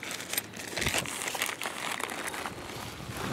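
Camouflage tape handled and crinkled up close during a gear box unboxing, continuous rustling and crackling with soft scattered crunches.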